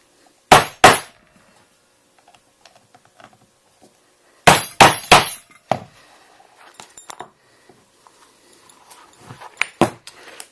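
A hammer strikes a rivet setter to set rivets on a bag: two sharp close metallic blows, then a quick burst of three or four more, followed by quieter handling clinks and a couple of final taps.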